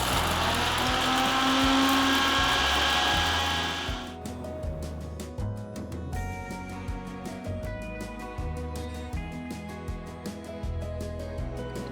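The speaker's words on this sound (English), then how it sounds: "Transfer the cooled ingredients to the mixer jar and grind it to a nice fine powder" A mixer grinder whirs loudly as it grinds roasted whole spices to powder, a steady high motor roar that cuts off after about four seconds, followed by mechanical rattling and clicking as the jar settles.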